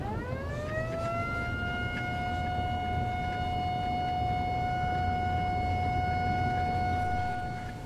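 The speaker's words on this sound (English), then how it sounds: "the top runs the siren" A ranch siren on cattle-feeding equipment winds up from low to a steady, sustained wail that holds for several seconds before fading slightly at the end.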